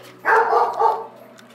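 A dog gives one short, moderately loud bark burst, heard nearby in a quiet indoor room.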